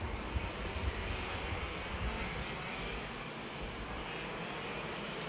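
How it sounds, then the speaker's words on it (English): Racing kart engines roar steadily during a WSK Supermaster Series OK-class final, forming a dense, continuous, loud drone with no breaks. "Perdana Minang, the Indonesian, in the VDK racing kart."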